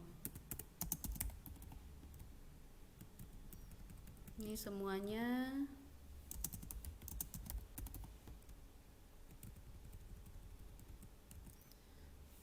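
Faint clicks of a computer keyboard come in scattered bursts while someone types during a database lesson, with someone speaking over part of it.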